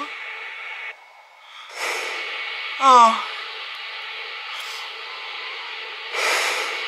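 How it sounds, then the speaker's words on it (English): A man breathes heavily in a few loud, rough exhales and gasps, close to the mic, with a brief exclamation from him among them. "Now I'm heavy breathing at this point."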